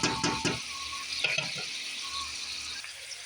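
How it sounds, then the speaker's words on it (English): Onions and peppers sautéing in a pan, made before sausage goes in: a steady, soft sizzle close by, with a few clinks and stirring scrapes near the start and no talking. "we have our onions and our peppers cooking. We're just going to saute this for a bit"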